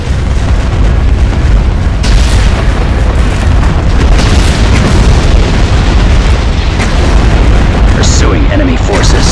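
Starship guns firing in the Star Wars space battle game Thrawn's Revenge, a dense continuous roar of booming blasts and bursts, loud and near, with voices speaking over it.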